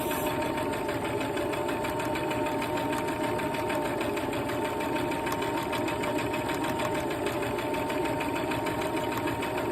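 A sewing machine runs steadily while stitching straight and curved lines on fabric, a continuous fast mechanical whirr and rattle at even volume throughout, close by with no talk.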